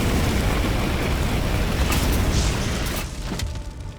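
A Prometheum Spray flamethrower attack roars in the tactical game Chaos Gate: Daemonhunters, a loud, sustained rushing blast with rumbling bursts that fades slightly toward the end.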